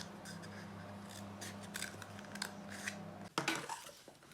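Scissors snipping through a cardboard toilet roll tube for a kids' craft, several quiet crisp cuts with rustling cardboard and a sharper snip near the end, close and soft.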